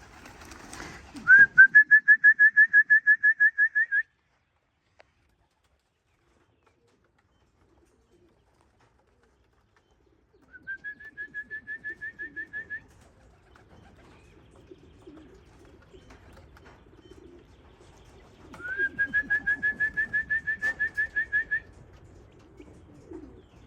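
Racing pigeons arrive at the loft during an old bird race, giving pulsed, whistling coo-like calls in three separate bursts, loud and close, with a low rumble in the quieter gaps.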